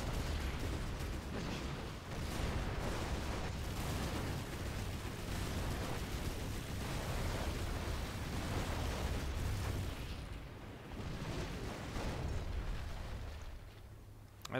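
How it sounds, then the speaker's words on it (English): A sustained, dense roar of explosions and battle rumble from the real-time strategy game Rise of the Reds, loud and continuous for the whole stretch and easing slightly near the end. "I just saw an explosion in the middle and then it's mismatched"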